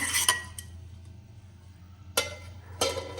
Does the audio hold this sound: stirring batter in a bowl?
yes